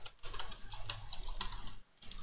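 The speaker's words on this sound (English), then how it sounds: "I'm going to type in the email address" An email address is typed on a computer keyboard in a word processor, a brief run of close, crisp key clicks over a soft room hum.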